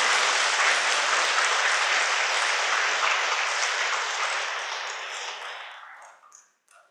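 A Catholic church congregation at a Mass for the Feast of the Assumption breaks into sustained applause from many hands, steady and full before thinning and fading out over the final seconds.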